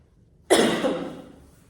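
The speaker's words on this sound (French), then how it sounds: "je tousse parce que je suis tombée malade" A single harsh cough from a woman who has fallen ill bursts out suddenly from silence, close by, then trails off into a fading rasp.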